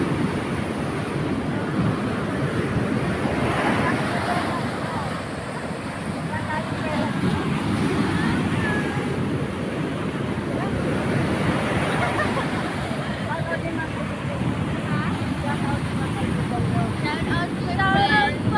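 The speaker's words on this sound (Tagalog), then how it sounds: "Sobrang lakas ng alon." Loud, continuous rush of heavy surf from strong ocean waves with wind roaring across the microphone, a steady churning wash that never lets up.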